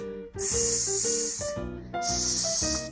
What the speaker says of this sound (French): Un serpent.